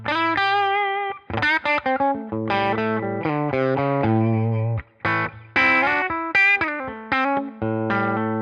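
An electric guitar on its bridge pickup plays through a Tonex model of a Fender Brownface style amp, ringing out a continuous melodic phrase of sustained, slightly driven notes with chorus-like shimmer.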